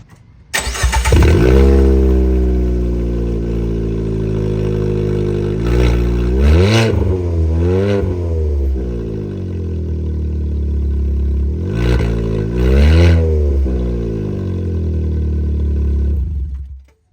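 Car fitted with a high-performance exhaust idling loud and close, then revved in two paired bursts of rising and falling engine pitch before settling back to a steady rumble, with no talking.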